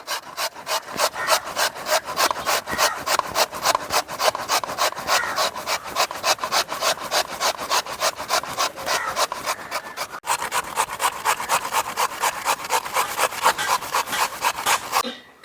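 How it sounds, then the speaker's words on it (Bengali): Potatoes being grated on the coarse side of a grater, a fast, steady run of loud rasping strokes in an even back-and-forth rhythm, close up with no talking. "আলুগুলো গ্রেট করে নিচ্ছি"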